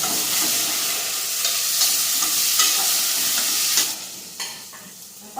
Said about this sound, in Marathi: थोडंसं परतून घ्यायचं फोडणीमध्ये आणि मग त्याच्यामध्ये पाणी घालायचं